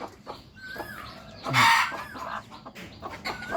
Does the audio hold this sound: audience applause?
no